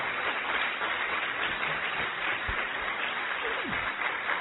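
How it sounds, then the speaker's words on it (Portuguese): Audience applause during a religious testimony: a steady, dense wash of clapping with no clear breaks, band-limited and somewhat muffled, from a crowd. "Pode aplaudir que é assim."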